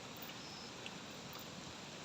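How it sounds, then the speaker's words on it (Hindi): Heavy rain falling steadily in a hillside village, a faint, even hiss of downpour with no voices. "आज सारा दिन झमाझम बारिश लगी हुई है"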